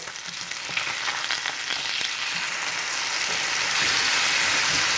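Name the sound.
teriyaki salmon frying in a pan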